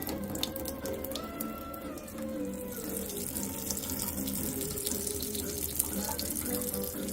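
Water runs steadily from a reverse osmosis filter faucet under a sink, a soft continuous splashing stream with small clinks and some background noise.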